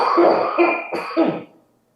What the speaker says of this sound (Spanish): Es una tos no paraguaya, sino de la semana pasada de Colombia.